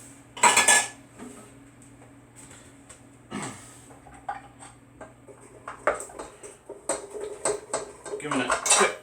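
Stirring at the bottom of a 5-quart KitchenAid mixer bowl, scraping and clinking strokes that come in bursts and build toward the end, close and fairly loud.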